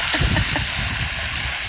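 A waterfall feature on an above-ground pool pours and splashes into the water, a close, loud, continuous rush with bubbling gurgles underneath.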